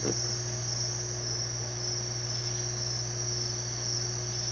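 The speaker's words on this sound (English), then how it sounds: "I was hoping that it would just let y'all hear the crickets outside my window" Crickets chirp outside a window in a steady, continuous high trill, heard over a low electrical hum with no talking.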